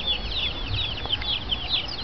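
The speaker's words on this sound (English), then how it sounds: "little baby chickens in the Philippines" Baby chicks in the Philippines cheep and cluck in a steady, overlapping chorus of high peeps, close by and fairly loud, with no talking.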